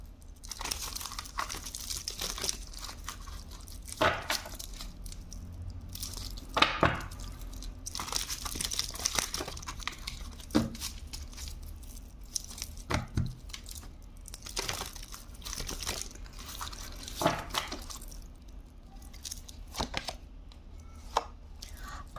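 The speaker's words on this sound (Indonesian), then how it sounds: "Ayo, aku coba keluarkan beberapa kartu," Playing cards are pulled from a deck and shuffled close by, a busy run of crisp rustles, flicks and soft slaps, irregular and quiet, with no voices.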